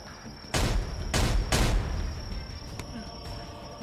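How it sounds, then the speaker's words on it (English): Several explosions off to the left in a VRChat roleplay battle: three loud, sharp blasts in quick succession, each fading out over a steady insect-like chirping backdrop. "notice several explosions off to the left, oddly nowhere near your troops."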